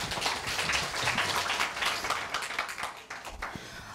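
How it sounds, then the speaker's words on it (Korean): An audience at a middle school speaking festival applauds to welcome a student speaker, with a brisk scatter of many hands clapping at moderate loudness. The clapping thins out toward the end. "큰 박수로 맞아주세요"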